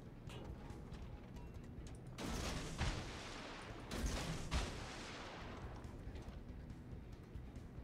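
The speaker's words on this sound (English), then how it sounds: "That's a lot of torpedoes heading out." World of Warships naval game: a Yugumo destroyer fires a large torpedo salvo, a steady rushing launch noise with two louder bursts of thudding discharge near the middle, with no talk.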